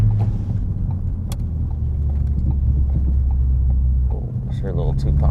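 A Ford Focus ST with an aftermarket intake drones at a low steady rumble from inside the cabin, with a couple of faint exhaust pops near the end.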